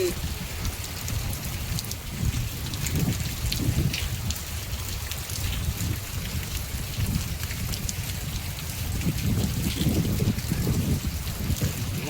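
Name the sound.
heavy rain falling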